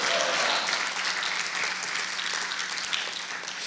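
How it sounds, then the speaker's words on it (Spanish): Church congregation applauding, a dense, even round of clapping that carries on steadily for a few seconds without letting up. "Dele palmas al Señor, hermano,"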